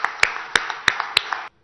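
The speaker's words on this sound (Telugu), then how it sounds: "I think you deserve a much much bigger round of applause then anybody else" An audience at the Vikram-S rocket launch success meet at T-Hub, Hyderabad, applauds the Skyroot team. A handful of sharp, spaced-out claps ring out over a steady hiss, then the sound cuts off abruptly.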